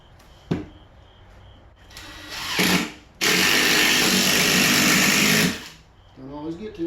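A power drill driving screws into a mobile home wall, a brief whir, then a longer loud steady whine of a couple of seconds as a screw sinks in, with speech before and after.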